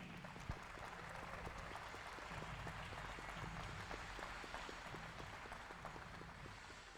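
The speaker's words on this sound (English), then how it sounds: "Another big round of applause for the finalists in the 2019 Canadian Championships" Faint, distant applause from a table tennis championship crowd, steady scattered clapping throughout with a sharp louder clap or two near the start.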